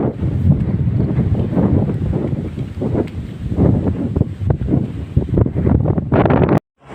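Strong wind roars and buffets the microphone continuously, loud and close, with gusting surges and a brief dropout near the end, while cycling in the Philippines.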